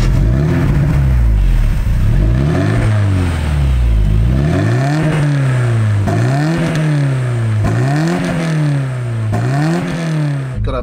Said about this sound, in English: It's time to take this car for a drive.